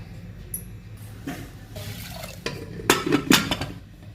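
Horse gram gets rinsed in a vessel, with water sloshing and small clinks and rattles of grains and metal, louder near the end.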